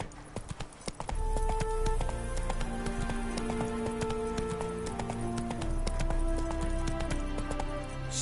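Roach the horse gallops in The Witcher game, hooves pounding in a steady rapid clip-clop that stays loud and close throughout, layered over a sustained musical backdrop.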